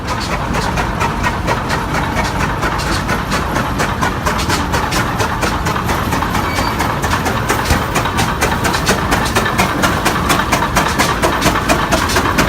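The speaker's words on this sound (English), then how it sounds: "Gas and oil tractor." A gas and oil tractor engine chugs steadily and loudly without pause at a farm show parade, a rapid rhythmic knocking that holds even throughout with no voices over it.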